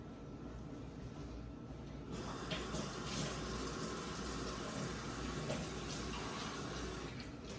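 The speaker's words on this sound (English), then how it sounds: "let me get some hot water in here" Hot water pours steadily, a continuous close hiss that swells suddenly and then pours on without a break.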